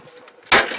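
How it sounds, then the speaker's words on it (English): A sledgehammer strikes a television being scrapped, one sharp loud crashing impact after a brief quiet lead-in, with rattling debris trailing off. "I just use a sledgehammer."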